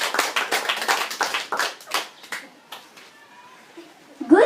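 A small audience at a high school debate claps for a judge being welcomed, a short burst of individual handclaps that thins out after about two seconds, followed by a brief voice.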